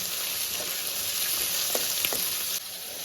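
Five chopped onions frying in hot oil with fenugreek seeds in a pan for a fish curry, a steady close sizzle with a few soft stirring taps near the end and no voices.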